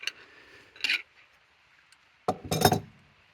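Steel wrenches clink against a gas line fitting: one short metallic tap, then a louder cluster of clinks a moment later, close by with quiet between.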